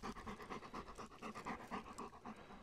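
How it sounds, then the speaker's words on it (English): A dog panting close by, quick rhythmic breaths repeating steadily, fairly quiet with no talking. "stop the dog from panting."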